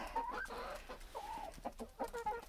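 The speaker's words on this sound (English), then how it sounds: "This is that Egyptian Fayumi rooster, boisterous, and Norman is right back there." A rooster of the Egyptian Fayumi breed clucking in a snowy farmyard, a few close, rhythmic throaty clucks and short calls, alone without talk.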